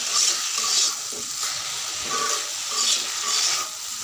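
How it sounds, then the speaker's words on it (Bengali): Spice masala stir-fried in a pan sizzles steadily while a spatula scrapes and stirs in repeated rhythmic strokes, close and fairly loud, with no talking. "আমি ঝোলটা কষাতে দিব, মশলাটা কষাবো।"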